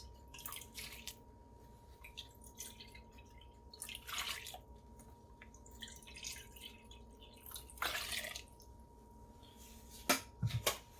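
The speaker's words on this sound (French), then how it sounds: "on y ajoute une tasse et demie d'eau" Water trickles and drips into a bowl holding the flour for no-knead bread, soft intermittent splashes and drops at close range with quiet pauses between them.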